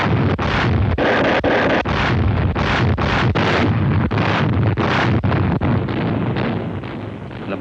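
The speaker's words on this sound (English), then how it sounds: "The bombardment cheered us all up. The more those big guns pounded the beaches" Naval bombardment of Pacific beaches, with big ship guns firing in a rapid, irregular barrage of heavy booms over a constant rumble of wind on the microphone. The blasts are loud and close, with no voices.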